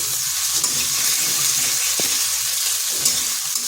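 Ginger and two green chillies fry in a pan with a close, continuous sizzle. Soft stirring scrapes and a single sharp tap break through the hiss.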